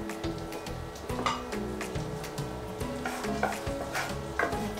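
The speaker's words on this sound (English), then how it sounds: "Okay, so the butter is now melting again." Butter melts and sizzles steadily in a hot pan before reindeer meat goes in, a continuous close crackle with scattered clinks and scrapes of a utensil against the pan, no voices.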